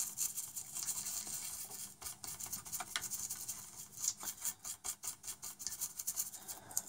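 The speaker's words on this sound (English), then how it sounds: "We're just going to pop a dab of IPA onto the board now, and then just give it a quick rub over" A circuit board from a UMC 32-inch LED TV being rubbed clean with isopropyl alcohol, soft close brushing and scrubbing strokes with irregular rhythm, quiet and alone without talk.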